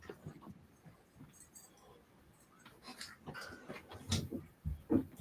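A dog whimpers and pants close by, soft breathy sounds with a few louder whines toward the end, no talking over it.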